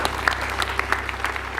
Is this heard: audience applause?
yes